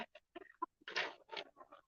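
Backyard chickens cluck and chatter in short, close bursts, several calls in quick succession with brief gaps between them.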